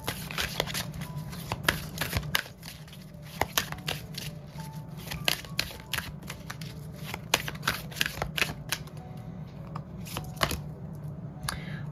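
Angel guidance cards being shuffled by hand, a rapid run of crisp riffling snaps and soft card slaps in uneven bursts, close and fairly quiet, with no speech over them.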